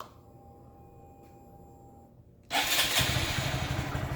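Quiet background hum, then a Honda Grom motorcycle engine fires up abruptly and settles into a steady, rumbling run close by.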